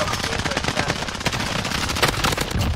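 Rapid automatic gunfire in the Modern Warfare Warzone video game, a dense continuous burst of close, loud shots rattling without pause for the whole stretch.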